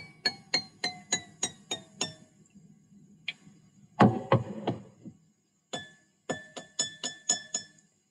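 A run of rapid, evenly spaced taps on a glass partly filled with water gives a lower ringing note, broken by a louder clunk and brief pause before the tapping resumes.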